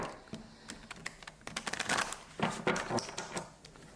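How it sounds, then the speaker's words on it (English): A deck of Mary L. tarot cards is shuffled, producing quick irregular clicks and riffling snaps at close range in a quiet room. "We'll do a few shuffles and then see what cards want to come out."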